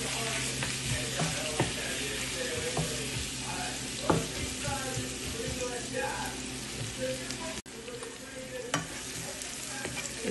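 Bombay duck (loitta) fish frying in a pan at home, a continuous oily sizzle with scattered crackles and occasional scraping stirs, steady and fairly close, with no talking.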